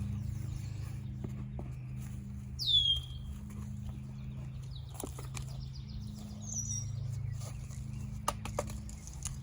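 A bird in a garden gives a couple of brief, sharp chirps over a low steady hum of background traffic, faint and some distance off.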